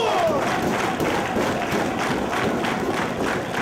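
Crowd at a 2005 Ring of Honor wrestling match applauding and cheering steadily after a high-flying move, a dense, continuous roar of clapping and voices throughout.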